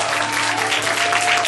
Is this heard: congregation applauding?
yes